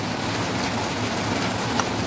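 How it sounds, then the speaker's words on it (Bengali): Heavy rain falls outside during home cooking of pumpkin pakora, a steady, dense hiss of drops that stays even and moderately loud throughout, with no voices and only one faint brief tick near the end. "বাইরে প্রচণ্ড বৃষ্টি হচ্ছে"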